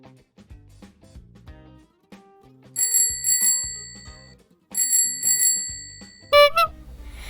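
An e-bike's bell rings in bright metallic dings, single strikes and quick double taps spread across the stretch, clear and close, with light clicks and rattles of the bike between rings.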